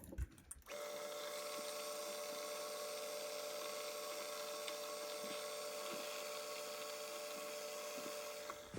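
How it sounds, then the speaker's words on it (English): A drill bores holes through a metal engine exhaust valve rocker arm, a steady high-pitched machine whine starting abruptly and running continuously with faint periodic ticks until it winds down at the end. "And then I'm going to change it a little bit and drill them through."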